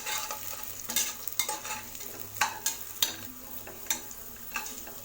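Onion and green chillies sauté in a pan for dal rice, a close hissing sizzle with frequent quick scrapes and taps of the spoon, steady stirring rhythm and no talking.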